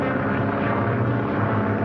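An ambulance airplane in flight drones steadily in an old Hollywood film, a dense continuous engine roar with wind-like rush and no breaks.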